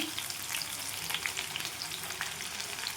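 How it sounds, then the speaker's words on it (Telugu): Soya chunk meal maker pakodas fry in oil over a low flame, filling the air with a dense, even crackle of bubbling fat and tiny pops, close and continuous without speech. "ఇవైతే పకోడీ వేసుకుందాం ఈ విధంగా వేసుకోవాలి"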